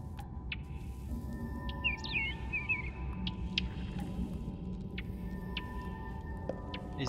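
A small creature in the video game Tiny Echo gives a few faint, high chirps and a short warbling call over a low ambient drone, with sparse clicks scattered around them.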